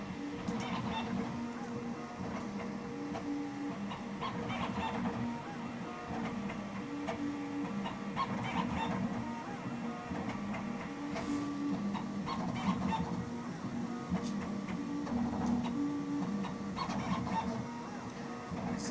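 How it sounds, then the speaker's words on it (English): A Prusa Core One 3D printer with a 0.4 mm nozzle prints at a quick pace, giving off a steady close whirr of stepper motors with rapid, chattering shifts in pitch that run unbroken throughout. "Seems to be printing fairly fast."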